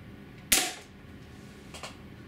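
A single sharp crack from a Benjamin HB22 .22 caliber multi-pump pellet pistol at minimum power, firing a heavier pellet, sounds close and quiet, followed by a softer faint click a moment later.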